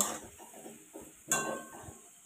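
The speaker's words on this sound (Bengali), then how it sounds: "এবার আমি আলুগুলোকে তুলে নেব।" Fried potatoes lifted from hot oil in a pan, with soft scraping and light metallic clinks of a utensil against the pan, one sharper clatter midway, over a faint background sizzle.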